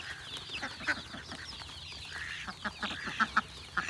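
Many chickens and ducks cluck and chirp together at a poultry farm during feeding time, with dense overlapping calls and a few louder squawks standing out close by.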